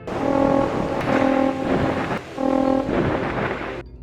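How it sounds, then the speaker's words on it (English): A harsh, distorted trumpet-like cry from a flying monster in a Zelda video game blares in long wavering bursts over a rumbling, noisy background, loud and close. "This distorted trumpet sound is so unnatural and wrong."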